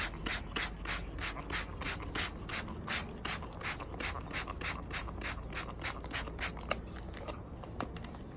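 A trigger sprayer mists cleaner onto a Mercedes cold air intake filter in quick, regular hissing bursts, about two a second, close and crisp, slowing and thinning out near the end, with no voices.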